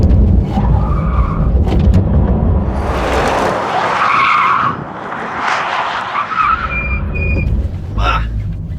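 Loud tires skid and squeal over a roaring car engine as the car, driven with driving aids disconnected, slides off the road, the screech swelling and fading across several seconds, close up with continuous rumble underneath.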